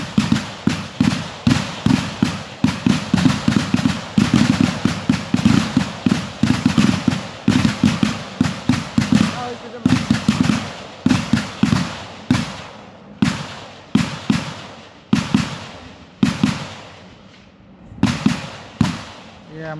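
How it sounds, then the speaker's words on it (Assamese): Rapid bursts of gunshots crack loudly and repeatedly, dense volleys at first that thin into spaced single reports, while a voice speaks underneath. "পুখুৰীয়ে গুলি শব্দটো ভয় কৰা নাই"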